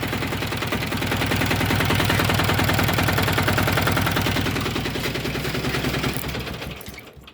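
A DTZ walk-behind tractor engine runs close and loud, with a fast, steady chugging beat that holds for several seconds and then fades off at the end.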